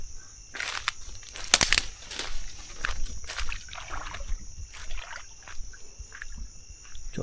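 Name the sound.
boat going out on the river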